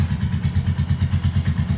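Royal Enfield Hunter 350 motorcycle engine idling just after being started, a steady loud low thumping pulse with regular rhythmic beats, close up and alone.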